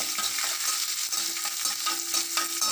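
Onions sizzling in a pan for a banana-flower stir-fry, a dense close frying hiss with rhythmic stirring scrapes throughout and no voices.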